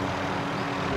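Propeller airplane in the Call of Duty Warzone video game, a steady, loud engine drone filling the whole second without a break.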